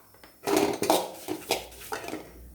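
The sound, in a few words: stirring and roasting coconut with coriander powder in a pan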